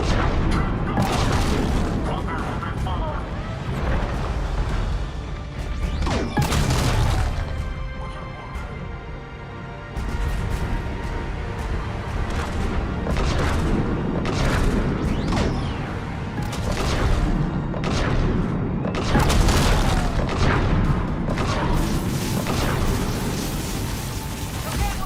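Autocannon fire and repeated explosions in the video game Mass Effect 3, loud and continuous with booming blasts and mechanical clatter spread across the whole stretch.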